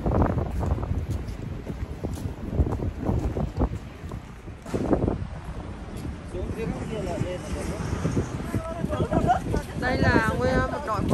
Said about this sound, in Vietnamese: Gió quá.